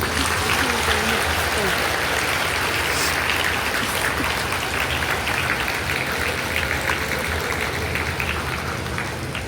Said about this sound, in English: Let's give your parents also a big round of applause.